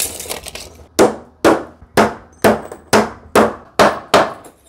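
Hammer driving nails into wooden formwork for a pillar set against a wall: eight sharp, evenly spaced blows, close and loud, with a quicker run of lighter taps at the start and no talk.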